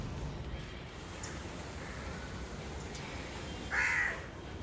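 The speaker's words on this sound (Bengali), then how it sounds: "কাকটা এসে বসেছিল, ওকে তাড়া লাগালো।" A crow gives a single loud caw near the end against a quiet, faintly noisy outdoor background.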